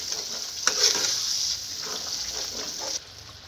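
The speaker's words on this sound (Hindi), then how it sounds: "अब इसमें दही डाल के 5-6 मिनट और भून लेता हूँ" Mutton mixed with yogurt fries and is stirred in a pan while cooking into Lucknow-style nihari, giving a steady, moderately loud hiss with a few brief scraping stirs and no voices.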